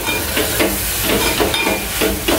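Dried shrimp (jawla) sautéing in oil with chili powder and salt, a loud continuous sizzle close by, broken by rhythmic scraping stirs roughly every half second, with no voices.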